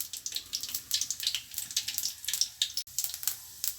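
Whole spices (cloves, cardamom pods, a piece of cinnamon and a bay leaf) sizzle in hot oil for tempering, a busy close crackle of rapid pops and hisses with no voices.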